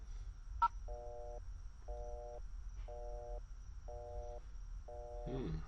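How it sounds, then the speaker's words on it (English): After a single quick beep from a phone's redial button, five evenly spaced electronic tone bursts repeat at a steady rhythm over a faint background hiss. "I'll just hit the redial button on my phone."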